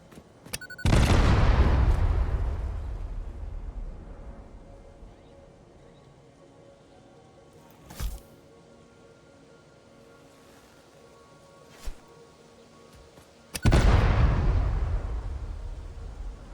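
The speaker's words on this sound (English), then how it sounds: "It's not cluster bombing very well." Two big booming explosion bursts, one at the start and one near the end, each decaying over a few seconds, from cluster bombs in the factory-building game Satisfactory, with a couple of short sharp pops between them.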